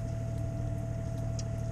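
A sailboat's Volvo engine runs at a steady idle-like drone, constant and close, carrying a low rumble with a sustained mechanical hum and no talk.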